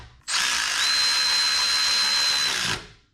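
A cordless power tool whirs steadily for about two and a half seconds, close and loud, tightening bolts on a Subaru EJ engine in a WRX/STI during a spark plug change, with a sharp start and stop.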